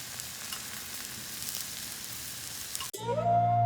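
Chicken pieces sizzle steadily on a Blackstone flat-top griddle for about three seconds, a dense even hiss, before it cuts abruptly to a quieter scene with tonal hum.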